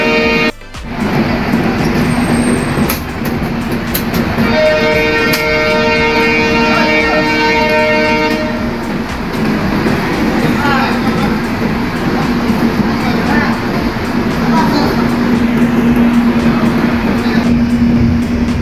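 The Kamrup Express pulls out of Chaparmukh Junction with a loud, steady rumble and clatter heard from inside the carriage, a horn-like tonal note sounding briefly partway through.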